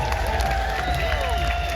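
An audience in an ice palace claps and cheers at a Grandfather Frost children's show, a dense, steady wash of applause filling a large echoing arena for under two seconds.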